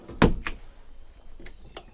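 Galley drawers on a Banks Martin Beaulieu 30 yacht slide open and shut in a few short knocks, a loud one first, then quieter thuds, close by with no talk.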